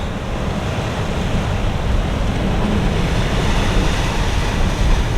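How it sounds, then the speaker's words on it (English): Strong wind buffets the microphone in a constant roaring rush, mixed with the wash of surf close by, on the foggy San Francisco Bay shore at Crissy Field near the Golden Gate Bridge. "Wow, that's windy."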